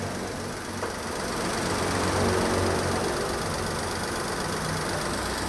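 The 1.2-litre engine of a 2018 Datsun Go+ Panca idles, a steady, close, even hum with a faint rhythmic patter that swells slightly partway through, heard alone without talking.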